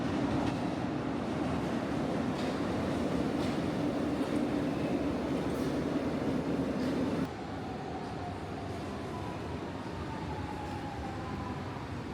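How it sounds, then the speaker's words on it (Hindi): Train at a station in Portugal, a steady loud rumble of rail cars that drops to a quieter hum partway through, with faint squealing tones afterward and no talking. "तो अभी अगली ट्रेन का वेट करना पड़ेगा।"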